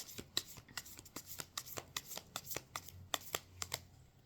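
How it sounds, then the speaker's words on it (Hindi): Tarot cards being shuffled by hand in quick, repeated riffling bursts, a steady run of crisp papery flicks heard close up and alone at a quiet level. "तो चलिए अब ईश्वर का ध्यान करके कार्ड शफल कर लेते हैं।"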